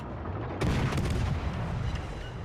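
A naval gun volley in World of Warships: Legends sounds as a sudden loud boom after a brief quieter lead-in, then a rolling, crackling rumble that keeps going to the end, with no voices.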